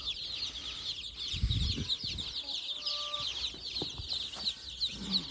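Young chicks cheep in a heated brooder, a dense chorus of high, rapid peeps running throughout at moderate level, with a few low thumps and rustles of handling nearby.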